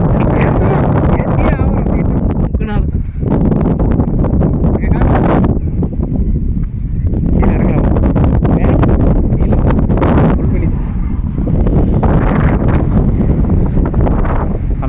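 Strong wind buffets the microphone in loud, gusty rushes that swell and ease throughout, with a brief rustle in the middle, on a trip around Anaikatti and Attappadi, Kerala.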